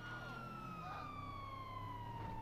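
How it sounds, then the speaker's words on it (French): Police sirens wail in a GTA V roleplay game, a sliding tone slowly falling in pitch above a low engine drone, moderately distant and steady. "il y a encore des sirènes"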